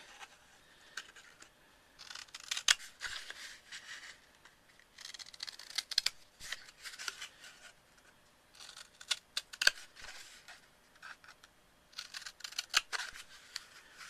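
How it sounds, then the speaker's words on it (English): Scissors snip notches into a paper square being shaped into a seed-starter pot, heard as several close, crisp bursts of cutting in four short groups with quiet pauses between, no talking. "going to take that square and cut a 3/4 inch notch along each seam at one of the ends"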